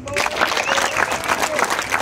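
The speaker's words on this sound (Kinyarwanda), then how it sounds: "ngaho twiha amashyi." A crowd claps together after a community sports session, giving a dense, continuous patter of many hands at close range with a few voices mixed in.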